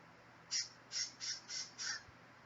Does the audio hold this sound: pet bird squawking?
yes